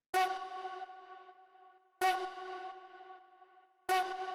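A synth stab struck three times at roughly two-second intervals, each bright hit ringing out in a long, spacious reverb tail that fades before the next.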